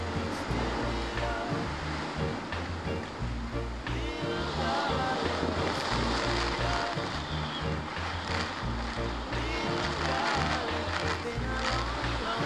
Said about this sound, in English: Wow, the wind just turned in the backyard.